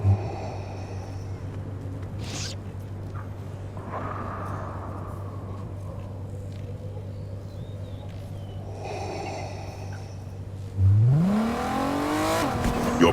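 A car engine idles with a steady low hum, then revs up sharply near the end, its pitch climbing as it pulls away.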